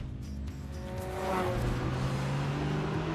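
A Lotus sports car drives in the video game Forza Horizon 4, its engine revving up and holding a rising, steady drone with a hint of tire noise, loud and close, with no talking.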